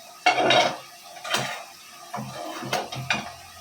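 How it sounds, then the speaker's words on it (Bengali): A spoon scraping and clanking against a kadai as cooked paratha filling is moved into a bowl: several sharp metal knocks and scrapes, spaced irregularly, close by. "পরোটার জন্য যে পুরটা বানিয়েছিলাম সেটা আমি এখন কড়াইটা থেকে একটা পাত্রে তুলে রাখলাম"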